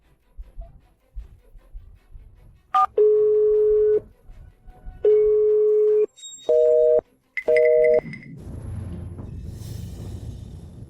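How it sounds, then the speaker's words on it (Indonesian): Phone dialing tones: a short series of steady electronic beeps of differing pitch, loud and close, followed by a faint ringback or line hiss, with no talking. "aku akan telepon istriku sekarang"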